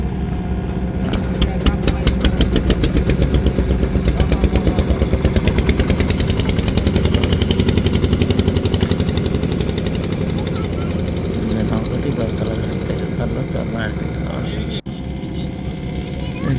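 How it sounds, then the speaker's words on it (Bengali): A trawler boat's engine chugs on the Kirtankhola river near Belatala ferry ghat, a loud, steady, rapid knocking throb that stays constant throughout, with voices faintly in the background. "একটি ট্রলার দেখতেছেন এটি চরমনাই ঘাট থেকে এখন বেলতলা ঘাটের দিকে আসছে"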